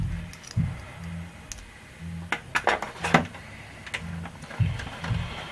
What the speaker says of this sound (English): go ahead and just put the screws in, I guess